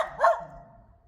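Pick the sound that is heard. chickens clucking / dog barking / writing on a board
dog barking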